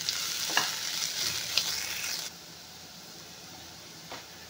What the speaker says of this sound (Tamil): இப்போ இஞ்சி பூண்டு பேஸ்ட்டு பச்சை வாசம் போக வதக்கிக்கலாம்.